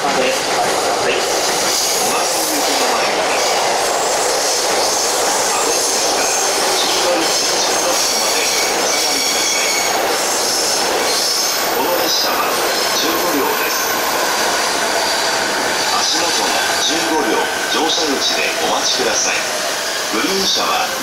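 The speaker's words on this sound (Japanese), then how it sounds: "こちらの電車は交通行きが参ります。" A commuter train pulls into a Tokyo station platform in the morning with a loud, continuous rumble and wheel squeal, while platform announcements and voices play over the steady train noise.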